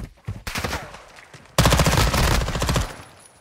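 Automatic gunfire in a search-and-destroy round of a shooter video game: a steady burst of rapid shots, then a louder, denser sustained burst that fades out near the end.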